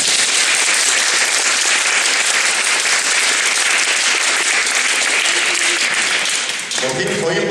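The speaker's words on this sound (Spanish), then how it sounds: "casi que mereces un aplauso" An audience breaks into loud, sustained applause at a cheese festival tribute to cheesemakers, close and dense clapping that continues for several seconds before a voice begins speaking near the end.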